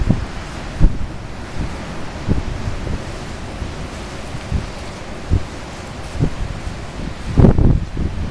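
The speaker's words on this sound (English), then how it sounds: "I'm going to try to get some more pictures of the waves in the ocean coming in." Ocean waves surge in at high tide where the Chetco River floodwaters push out, November 2012. A continuous wind-blown roar is broken by periodic heavier thumps of breaking surf, with a louder rush near the end.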